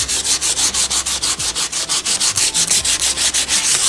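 Wood being sanded by hand with sandpaper: a fast, steady rhythm of about twenty rasping strokes, close and fairly loud, with no talking.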